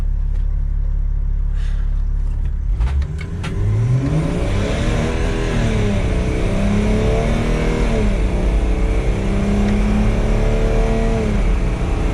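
A Toyota Land Cruiser Troopy with an M57 engine revs up and pulls hard, a deep rumbling roar rising in pitch through the gears, heard from inside the cabin with no talk.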